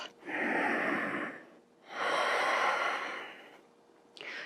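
Two long, deep breaths drawn and released close to the ear during a yoga session, each a broad airy rush lasting over a second, with a third breath beginning at the end; no talk.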